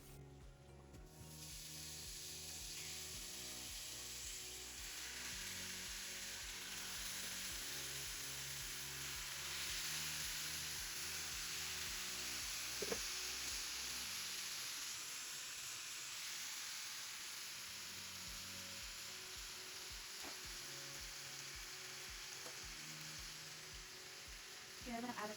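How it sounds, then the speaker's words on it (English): Meat for sopes dropped into a hot pan, a steady close hiss and crackle of frying that rises and settles after a soft clunk partway through, continuing evenly. "I am gonna put the meat right now to get us started cooking"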